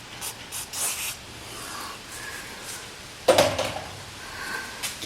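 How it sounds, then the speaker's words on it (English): Short bursts of brake cleaner sprayed from an aerosol can onto Porsche 928 parking brake parts, with a few brief hisses followed by a longer, louder spray close by, amid light workshop handling noises. "I like to spray a little brake clean to get the fingerprints off."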